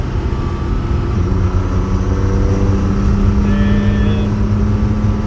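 Steady loud drone of a 1,000+ HP Cummins diesel-swapped Squarebody truck under way, continuous engine roar with a rising tone, heard from inside the cab.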